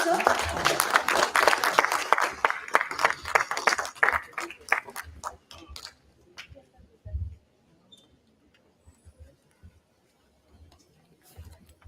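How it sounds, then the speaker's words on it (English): Audience applause greets a guest invited onto the dais at a university law conference's valedictory session. Loud, dense clapping fills the room, thins into scattered claps, then gives way to quieter room noise with a few last isolated claps. "A huge round of applause for sir."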